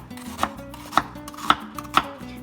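Half an onion cut with a knife on a board, four crisp evenly spaced chops heard up close in steady rhythm with no talk.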